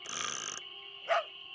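A single short, synthetic-sounding dog bark from the video game Nancy Drew: Ghost Dogs of Moon Lake rises over a steady electronic hum, preceded by a burst of hiss.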